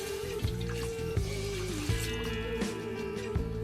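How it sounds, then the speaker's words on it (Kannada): A full glass of water pours into a cooking pot on the stove while ragi ball is being made, a soft, continuous trickle and splash with a few light knocks, quiet and close. "1 ಗ್ಲಾಸ್ ಪೂರ್ತಿ ನೀರು ಹಾಕ್ತೀನಿ"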